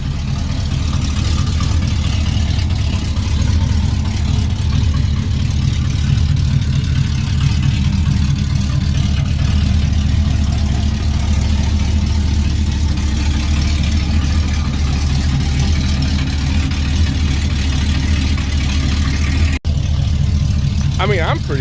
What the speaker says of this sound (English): I've got idle set to like 800 RPMs and it's still not warmed up